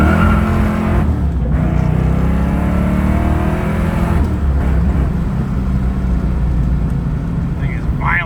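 A supercharged 1991 Mustang GT Foxbody with a Vortech V3SCi, upgraded heads, cam and intake and 3.73 rear gears accelerates hard. Its loud engine climbs through the revs with brief dips at gear shifts.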